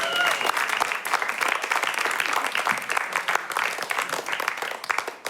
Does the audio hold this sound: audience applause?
yes